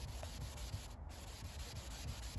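A terry cloth towel with cleaner wax rubbed back and forth across car paint, a steady close scrubbing with a repeating rhythm throughout.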